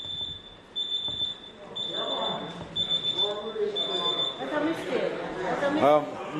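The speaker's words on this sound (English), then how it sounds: "It's false alarm?" A repeating electronic alarm beeps in a parliament chamber during a House of Representatives sitting, steady pulsed tones continuing under a man's speech and murmuring from the room.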